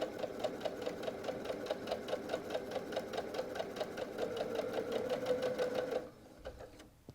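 A sewing machine stitches a quilt block seam for a flying geese zipper pouch, a steady close run of rapid needle strokes lasting about six seconds before it stops, leaving quiet room tone.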